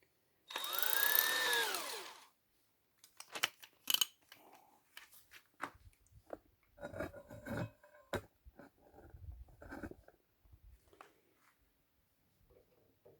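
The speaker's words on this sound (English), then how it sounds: "And I drill there." An electric drill bores a hole for an air bleeder pipe on an XD2 diesel engine water pump, with a loud, brief whine at the start followed by scattered tool clinks and handling noises.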